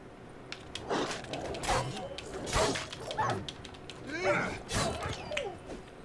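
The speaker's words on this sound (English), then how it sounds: "They are bull mastiffs." Bull mastiff dogs in The Witcher 3 video game bark, yip and whimper in a rapid, overlapping scuffle, mid-distance and fairly loud, with sharp impact sounds and some talking mixed in.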